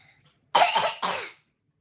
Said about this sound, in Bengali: কাশি না এলেও খেতে বসলে ওর কাশি পেয়ে যায়